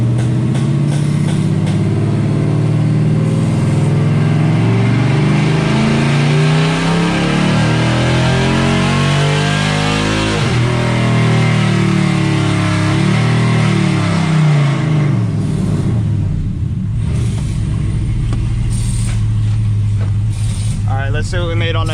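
A 4th-generation Ram truck with Stainless Works long-tube headers revs hard on a dyno, its loud engine climbing steadily in pitch through a full pull before dropping back to a low idle rumble.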